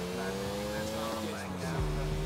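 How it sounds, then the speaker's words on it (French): Motorcycle engine in Grand Theft Auto IV, a steady tonal drone with shifting pitch as the bike revs, running continuously under a faint voice. "Le bruit de cette moto laisse tomber, c'est un bonheur."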